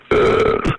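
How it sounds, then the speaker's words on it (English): A single loud, close burp, deep and croaky, lasting under a second, made during a prank 911 emergency call. "Are you interested in hearing burping on a 911 call?"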